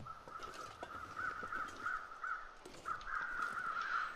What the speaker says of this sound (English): A lot of damn crows for no feathers.